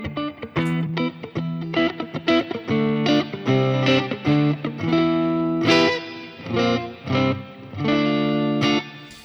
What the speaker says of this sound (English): This might be for more of an overdriven lead, like a crunchier sound, a little bit more like girth to it